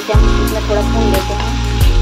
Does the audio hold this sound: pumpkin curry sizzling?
yes